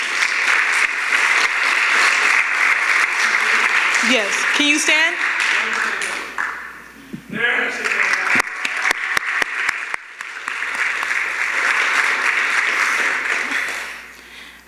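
Audience applause at a youth showcase event, sustained broadband clapping for most of the stretch with a brief lull midway, while a speaker talks over it.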